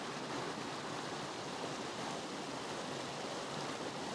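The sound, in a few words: river cascade flowing water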